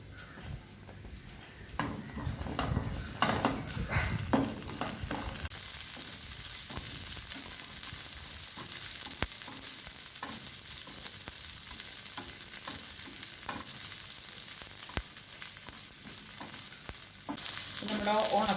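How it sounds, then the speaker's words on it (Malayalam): Raisins fry in ghee in a pan for unniyappam, giving a steady close sizzle with stirring scrapes and occasional utensil clinks throughout, with no talking. "ഈ ഉണക്കമുന്തിരി ഒന്ന് വറുത്തെടുക്കുക."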